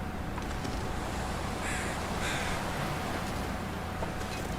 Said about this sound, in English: What's that bird sound?